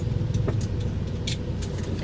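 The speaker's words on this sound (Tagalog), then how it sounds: "Ayan, traffic siya." Road traffic in the Philippines heard from inside a vehicle, a steady low rumble of car engines with a few faint higher clunks and rattles.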